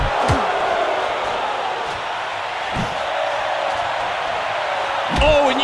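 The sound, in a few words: crowd reacting to a punch in a boxing video game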